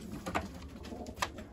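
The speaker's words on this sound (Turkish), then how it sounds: "Burada da çok değişik kuşlar var." Pigeons cooing inside a coop, two soft low coos standing out over a faint background hum, close and quiet.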